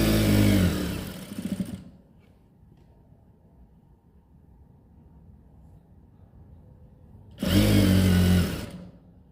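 A sewing machine stitches a palazzo pocket, matching the cut edge, in two short loud bursts of fast, close needle chatter at the start and end, with a quiet low hum between them.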